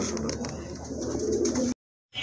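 Pigeons cooing in a steady low murmur with a faint high chirp above, close and continuous, then cutting to silence near the end as a new burst begins.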